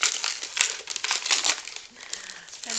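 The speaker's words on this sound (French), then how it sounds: "Alors, j'ai envie de tout déchirer." Wrapping paper around a gifted book is crinkled and torn open by hand, producing close, bright rustling and crackling bursts with short pauses between them.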